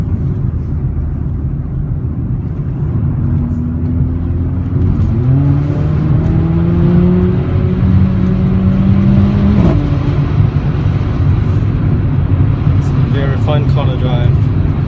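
A Mercedes-Benz CLA45 AMG engine on the move, heard from inside the car. A loud, constant drone carries road noise, and the engine tone climbs and shifts as it revs in the middle stretch.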